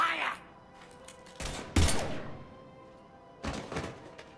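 Gunfire in Mass Effect, a few heavy thudding shots with a short burst, heard close and loud, with voices speaking between them.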